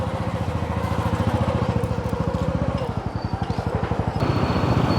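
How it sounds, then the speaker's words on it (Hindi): Hero Splendor Plus NXG motorcycle engine running with a steady close, thumping single-cylinder pulse that quickens slightly as the bike pulls away, loud throughout. "गाड़ी स्टार्ट करथन हमन स्प्लेंडर प्लस NXG"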